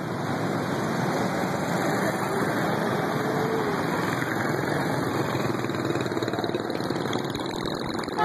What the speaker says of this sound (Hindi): देखें कितना ट्रैफिक है इस रोड के ऊपर और ज्यादातर बाइकें हैं लोगों के पास